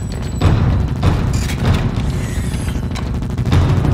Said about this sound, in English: Hallway, six men, shots fired.